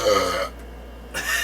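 A person burps after drinking water, a short throaty belch that fades into a brief quiet gap before another rough vocal burst, close and moderately loud.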